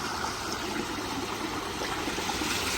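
Water rushes and splashes steadily, a continuous broadband flow like a stream pouring into a pool, close and unbroken.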